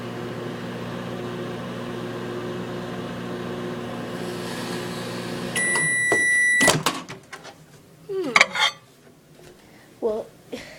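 A banana heating in a microwave oven gives off a steady hum. Then comes a sharp beep, followed by a few loud pops, crackles and hissing bursts close by.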